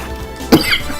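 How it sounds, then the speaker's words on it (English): A single sharp cough from a person with a cold, close to the mic, loud and abrupt, with a faint trailing breath after it over quiet background. "if you hear me coughing, I'm sorry about that"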